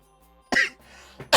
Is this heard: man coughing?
yes